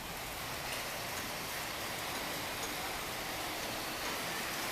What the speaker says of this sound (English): It's starting to rain a little bit more.